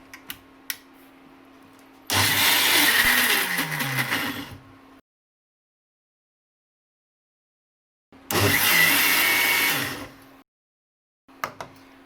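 An ELGI Ultra 750W mixer grinder with a 1.5-liter jar grinding two cups of soaked idli rice: two loud, close bursts of whirring motor, each several seconds long and winding down as it stops, separated by silence.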